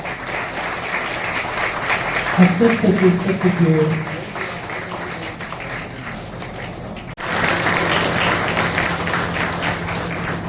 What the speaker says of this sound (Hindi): सभी के लिए जोरदार ताली